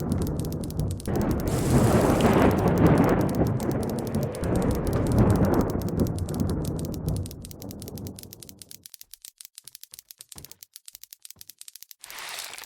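Heavy rain and rolling thunder from the video game Worldbox, a loud roaring downpour for about eight seconds that fades away, then sharp brief crackles before the rain swells back.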